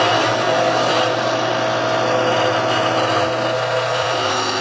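A milling machine running at about 3,200 RPM cuts copper soft jaws for a Wilton vise, a loud steady whirring roar that fills the whole clip at close range, with a slight shift in tone near the end.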